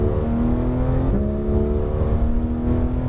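A Porsche 911 GT3 accelerating on Dominion Raceway near Richmond, Virginia, its engine a steady loud whine with a brief gear change partway through, heard alone.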